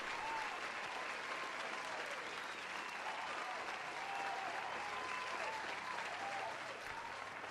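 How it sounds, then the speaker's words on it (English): Steady applause from a studio audience for Lucas during a live homebrew review call-in show, dense and continuous throughout at moderate volume, with no voices breaking through. "Let's give Lucas a round of applause."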